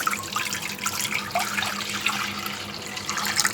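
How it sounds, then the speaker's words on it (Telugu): Water pours steadily from a tap into a pan, a soft continuous splashing and trickle, fairly quiet and close. "నేను వాటర్ పోసుకుంటున్నాను"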